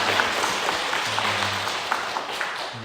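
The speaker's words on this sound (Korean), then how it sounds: "우리 격려의 박수" Gathered people clap in encouragement for five religious making their vows, a soft, steady patter of applause heard at a distance over a low hum.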